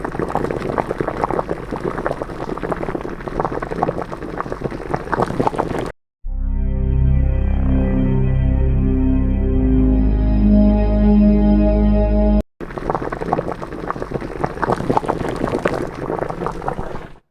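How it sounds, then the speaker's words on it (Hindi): Water boils at normal temperature inside an airtight, vacuum-sealed tube, making a loud, rough, continuous bubbling hiss that is broken in the middle by a sustained tonal musical passage before the bubbling returns. "उसमें रखा हुआ पानी नॉर्मल टेम्परेचर में भी उबलने लगता है।"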